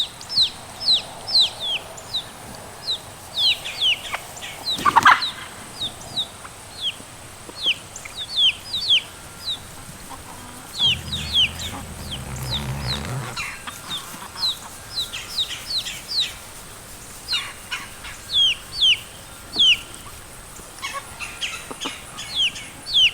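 A mother hen and her chicks call back and forth, with high, rapid chick peeps scattered throughout and a brief low clucking from the hen near the middle, close by and clear.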